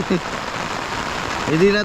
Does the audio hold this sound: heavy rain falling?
yes